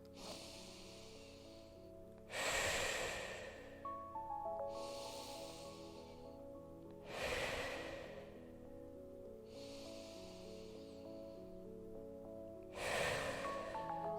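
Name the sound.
deep breaths during exercise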